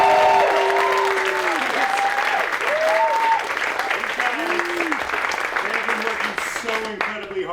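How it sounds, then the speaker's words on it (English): Audience applause at an outdoor courtyard kickoff event, a dense steady wash of clapping from a crowd that slowly fades, with voices and whistle-like cheers mixed in. "So a round of applause."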